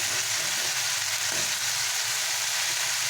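Ginger garlic paste sizzles in hot oil in a pan on low heat, giving a steady, even hiss with no talking over it.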